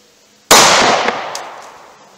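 A single 9mm full metal jacket round fires into a test medium with one sharp, loud crack that rings out and fades over about a second and a half, with a faint clink after it.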